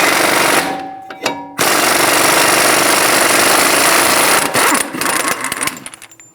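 An impact wrench with a 30mm socket rattles a Toyota Camry axle nut loose, a loud continuous hammering burst that pauses briefly near the start, resumes for several seconds, then sputters and trails off.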